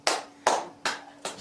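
Four slow, separate bursts of audience clapping at a Buddhist dharma talk in a temple meditation hall, spaced evenly about every 0.4 seconds, each one a sharp broadband crack that fades out fairly quickly. No voices are heard.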